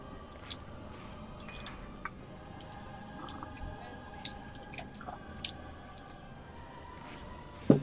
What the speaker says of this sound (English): Sorry if you heard sipping, I was drinking some tea.